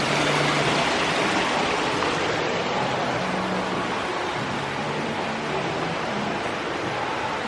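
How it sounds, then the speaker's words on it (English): A small indoor waterfall fountain in an old shopping mall gives a constant, close, even splashing rush of falling water, with no voices over it. "in these old malls, you're always going to have an area with a little waterfall and everybody throws their coins."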